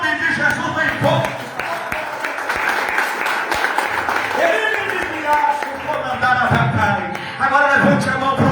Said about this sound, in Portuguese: aplauda o nome de Jesus bem forte